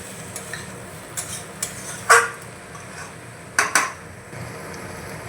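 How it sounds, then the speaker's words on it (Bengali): A spoon stirs and mixes potato and capsicum curry with chopped coriander in a pan, with soft scraping and a few clear metallic clinks against the pan, and no talking. "তো এবার নাড়াচাড়া করে আমি আর একটু মিশিয়ে নিচ্ছি।"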